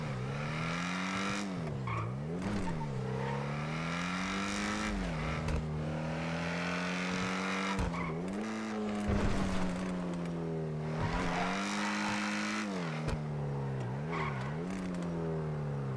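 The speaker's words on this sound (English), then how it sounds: "Dude, this car sounds nice." A car engine revving and shifting through gears while driving in GTA 5, the strong harmonic drone rising and falling repeatedly with occasional tire squeal, loud and continuous without talk.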